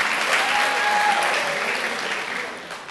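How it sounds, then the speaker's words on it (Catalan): A room of people applauds a player named Eduard in a spelling game, dense even clapping that runs loud and steady before easing slightly toward the end. "Aplaudiment per l'Eduard."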